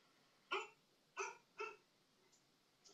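A dog gives three short, sharp barks in quick succession, with a faint fourth yelp trailing off. The barks are fairly distant and quiet, set against low background hiss, with no talking.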